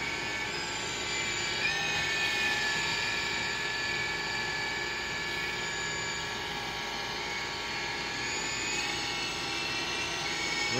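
An Extreme S-8G helicopter on a test flight gives a steady, continuous rotor and motor whine that holds at an even level throughout, with no voices.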